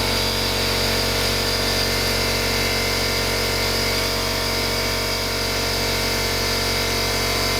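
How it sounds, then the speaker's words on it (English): A generator runs in the background with a constant, dense mechanical hum. The drone holds steady and fairly loud, with no talk and no change in level throughout. "The generator just started up behind us"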